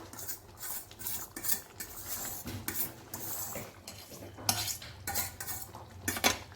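A metal spoon scrapes and clinks against a pan while crushed boiled potato is mixed into chana masala, steady repeated stirring strokes, close and fairly quiet.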